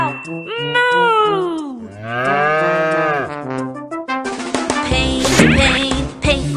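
A sung children's nursery rhyme gives way to a loud, drawn-out cow moo, bright and harmonic, with musical backing continuing around it.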